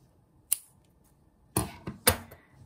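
Scissors snipping crochet yarn while working on a crocheted bag: a few sharp, close metallic clicks, one alone and then a quick cluster of three.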